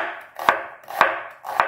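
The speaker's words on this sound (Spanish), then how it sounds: "Y también voy a cortar una cebolla." A kitchen knife chopping through a small onion on a cutting board: three sharp, close thuds spaced about half a second apart, with a soft slicing swish leading into each cut.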